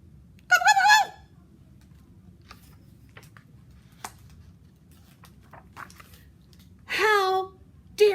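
A voice imitates a turkey gobbling during a children's story reading, two quick warbling gobble bursts separated by quiet room noise and small clicks.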